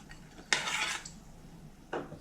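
Raisins go into a pot of grain and water in a home kitchen, making two short, close clattering rattles against the pot about a second and a half apart, quiet otherwise with no talking.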